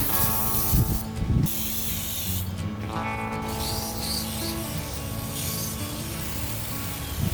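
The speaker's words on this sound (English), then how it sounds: "we're going to go ahead and spray it down with a second coat" Oven cleaner sprayed as a second coat onto a varnished wooden table being stripped, heard as a series of close aerosol hisses, some short bursts and longer sustained sprays, with faint handling noise between them.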